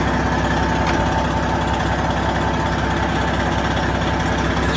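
A straight-piped Freightliner Coronado truck engine idles with a loud, steady, rumbling drone that holds unchanged throughout, with no talking.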